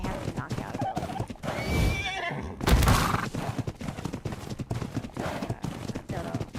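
A horse whinnies and its hooves clip-clop in ARK Survival Evolved, the neigh rising sharply near the middle over steady game noise and a talking voice.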